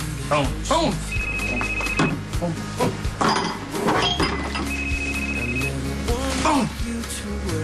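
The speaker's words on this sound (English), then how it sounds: "Phone." A telephone rings in a bursts-and-pauses pattern, two electronic trills heard beneath overlapping voices and background music in a TV drama scene.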